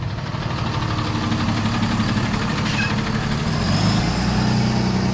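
A truck passes close by on a Fort Lauderdale street, its heavy engine droning loudly and steadily with broadband road roar, swelling slightly near the end, with no talking.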